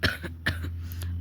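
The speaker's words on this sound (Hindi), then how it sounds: "मुझे बहुत खांसी भी हो चुकी है" Two quick, close coughs in succession, about half a second apart, with a faint hum in the background.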